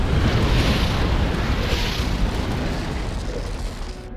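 A MAC blast explosion in the Halo Wars skirmish game, a loud sustained booming roar with a dense rushing rumble that slowly fades over several seconds, with no talk.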